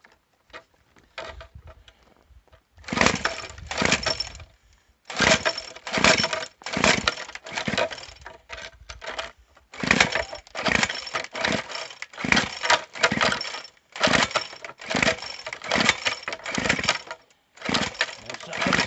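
Craftsman gas string trimmer being pull-started again and again: repeated bursts of rapid rattling recoil pulls and brief sputters, separated by short gaps, close and moderately loud.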